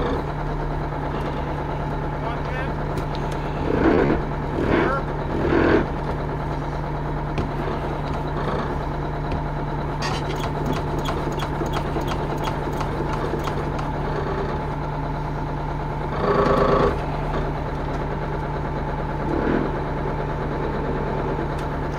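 An Aerodyne cabover truck that sat for 27 years idles steadily after warming up, with a constant low, droning engine hum throughout. A few brief louder bursts break in over it.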